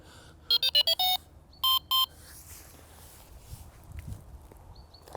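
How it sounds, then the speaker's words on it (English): A quick series of electronic beeps from a fishing bite alarm, then two more, loud and close, followed by faint rustling and a few softer beeps, at a carp lake. "Might turn the buzzer on just in case though"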